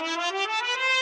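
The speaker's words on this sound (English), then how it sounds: "This is a major ascending scale." A bright instrument plays a quick major ascending scale, the clear sustained notes stepping upward one after another at an even, fairly loud level.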